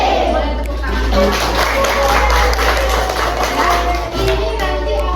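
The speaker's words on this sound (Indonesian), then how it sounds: "Boleh tepuk tangan." Students clap and tap their hands together in an Indonesian classroom, a dense steady patter lasting several seconds, with children's voices and chatter mixed underneath.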